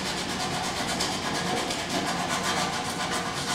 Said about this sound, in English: I have a 60 grit sandpaper. I'll just come back and start smoothing everything in.